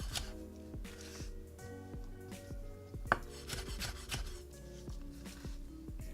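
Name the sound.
knife julienning green bell pepper on cutting board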